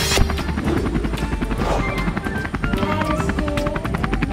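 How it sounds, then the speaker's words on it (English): A helicopter's rapid rotor chop pulses steadily at close range, loud and continuous with a whining engine tone over the beat. "Whoa, a helicopter."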